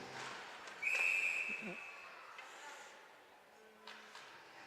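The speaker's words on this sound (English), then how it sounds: "I thought the ref just wanted to make sure his P was still working in his whistle." A hockey referee's whistle at a playoff game gives a short, shrill blast over the arena's crowd murmur. It is moderately loud against the distant background noise, with a fainter high tone following later.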